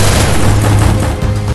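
Gunfire in a shooting video game with an MP40, a loud, dense burst of rapid shots landing a headshot, booming briefly and cutting off sharply, with no voices.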